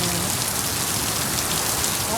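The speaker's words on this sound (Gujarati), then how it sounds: "હજી વરસાદ જ ચાલુ છે" Heavy unseasonal rain pours down in a dense, continuous roar, steady and close, with no voices.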